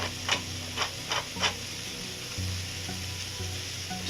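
Diced potatoes for corned beef hash crisp in a hot pan with a steady close sizzle and a few quick scraping stirs near the start.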